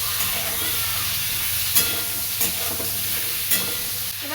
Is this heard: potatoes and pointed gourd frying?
yes